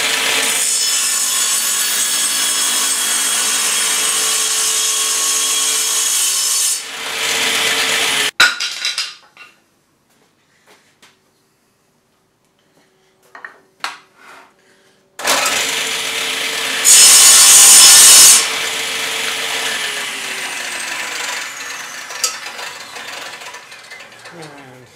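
Steady, loud hand sawing as a piece of wood is trimmed for a sliding dovetail joint on an iPad stand, with a pause of quiet clicks and knocks in the middle before the rasping strokes resume.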